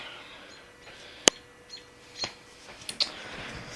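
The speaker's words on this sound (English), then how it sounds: "it's a fucking evil bird" A few sharp, isolated chirps and clicks from a bird, well spaced over a few seconds against a quiet background, with one especially loud, abrupt snap near the start.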